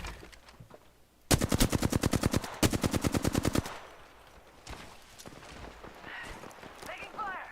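Rapid automatic gunfire bursts from the video game New World, two loud sustained volleys of evenly spaced shots, followed by quieter scattered shots and background game noise.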